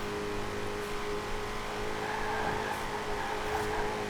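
A 2020 Shelby GT500 engine in Forza Horizon 4 drones steadily and close, a continuous even motor hum with no clear gaps or breaks.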